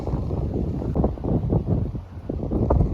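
Wind blasts across the microphone at a rocky hilltop viewpoint in Idukki, a loud, steady rumbling buffet with gusty surges.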